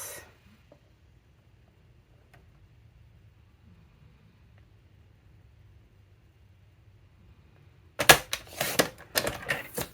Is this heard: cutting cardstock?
yes